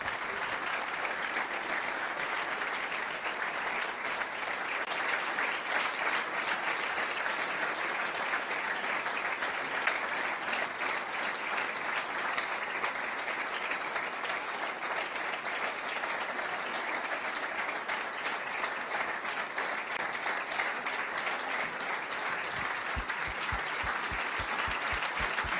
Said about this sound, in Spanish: os pido, por favor, para que les pongamos rostros, que deis un aplauso a Andrés Martínez y a ese equipo de CECAP